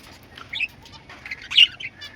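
Pet birds from a breeding setup give a few short chirps and bursts of wing flapping close by, two louder flurries standing out against a quiet background.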